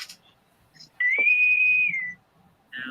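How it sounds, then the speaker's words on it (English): A loud, piercing whistle holding one steady high tone for about a second, sharp and close, standing out against a quiet background with faint murmurs around it. "that whistle was loud. Ear piercing."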